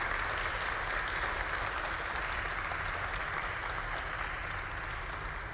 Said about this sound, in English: Let's give Kathy a round of applause.